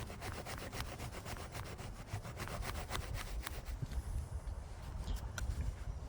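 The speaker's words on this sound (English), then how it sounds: "As far as producing shavings on the fat wood, does an excellent job." A Grohmann 104 Mini-Skinner knife carves shavings from fatwood in quick, rhythmic scraping strokes, each a short dry rasp repeating close-up; the strokes thin out toward the end, with no voices.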